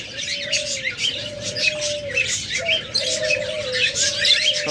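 Lutino pet birds in cages chirp and tweet in a continuous busy chorus, with a steady tonal call running underneath, close and moderately loud, no talking.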